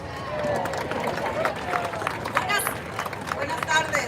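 A crowd at the Mid-Coast Trolley Extension grand opening applauds as a speaker is welcomed, steady dense clapping mixed with crowd chatter and voices throughout.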